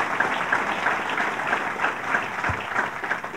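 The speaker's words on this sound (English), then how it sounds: "So let's give him a round of applause." An audience at a governor's announcement in Kingston claps steadily, a sustained mid-level round of applause with a faint rhythmic quality and no speech over it.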